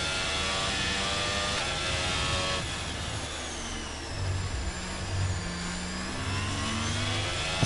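An F1 car from the video game F1 22 drives out of the pit lane at the Emilia Romagna circuit, its engine a continuous high-pitched whine with shifting revs over a dense hum of other cars.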